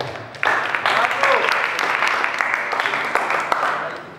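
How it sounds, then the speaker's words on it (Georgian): Spectators at a GAMA FURY ceremonial weigh-in for fighters break into applause after a short quieter moment. The clapping swells into a loud, dense patter that carries on to the end, with a voice faintly beneath it. "აპლოდისმენტები მეგობრებო, ლუკა შარმაზანაშვილი,"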